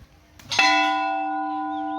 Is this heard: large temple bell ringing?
yes